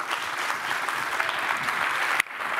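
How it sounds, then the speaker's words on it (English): A round of applause for Jay Williams rises as a steady, fairly close wash of clapping. It cuts off abruptly near the end and then softer clapping continues. "Can we get a round of applause for Jay?"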